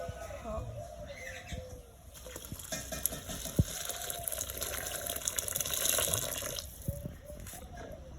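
Water is poured into a pot of rice and chicken for a village-style biryani, a continuous splashing gush that sits close and fairly loud, with a person talking over it.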